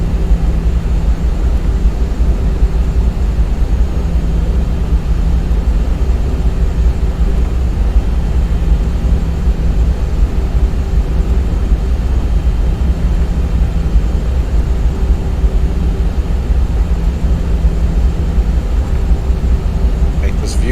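Airbus A320 jet taxiing in X-Plane 11, a steady low engine drone with a faint whine holding throughout, loud and continuous, with a voice talking over it.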